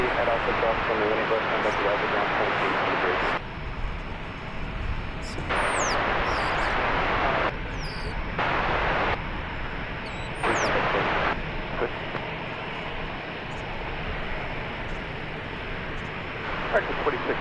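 A passenger airplane approaching to land at DFW Airport, a broad engine roar that swells and eases over the whole stretch while people talk over it.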